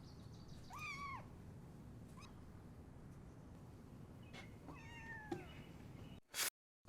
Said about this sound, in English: Oh, the cats.